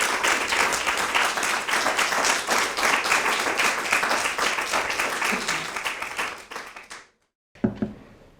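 An audience applauds to welcome a keynote speaker at a symposium, with sustained loud clapping from many hands that gradually thins out and stops, followed by a brief pause and a few scattered claps.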